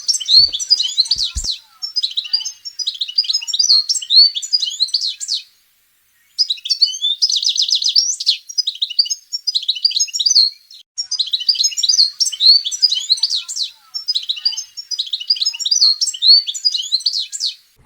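A goldfinch sings in bright, rapid twittering phrases with short gaps between bursts, close and clear over near silence.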